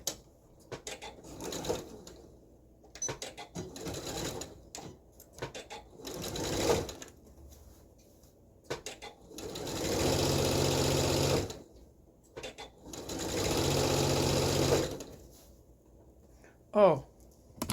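A home sewing machine stitches elastic into a B6766 blouse, running in two long steady bursts of rapid stitching with shorter starts and stops between, close up, with a voice talking briefly in the pauses.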